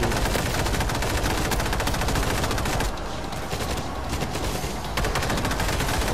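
Rapid bursts of gunfire ring out while shooting a zombie in the World War Z video game, dense and continuous for about three seconds, briefly thinning, then resuming loudly with no talk.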